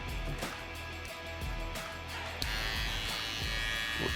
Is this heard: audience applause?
no